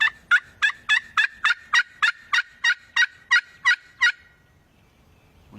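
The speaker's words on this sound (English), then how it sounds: "You rip a call on one of these glass, the volume on them is phenomenal." A glass turkey call is played loudly and close, giving a run of about fourteen sharp, evenly spaced yelps that stop abruptly, followed by near silence.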